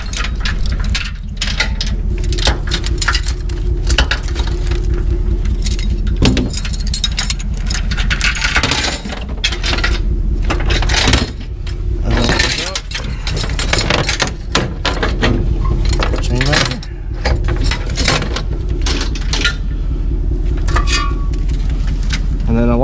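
Heavy metal chain clanks and rattles as it is hooked onto an RV transport trailer, loud close jangling and clinking in repeated bursts over a constant idling engine rumble.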